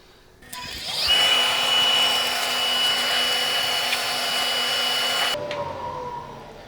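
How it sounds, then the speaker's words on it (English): A vacuum cleaner runs steadily for about four seconds on a CNC workshop job making an Aztec calendar, starting up abruptly with a loud whine and cutting off. "Just get out the vacuum cleaner."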